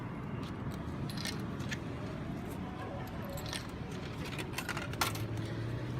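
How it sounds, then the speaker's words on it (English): Small metallic clinks of 100 yen and 10 yen coins dropping into a vending machine on a Tokyo street, faint and scattered over steady background noise and voices. "We have a 100 yen coin, a 10 yen coin into the machine."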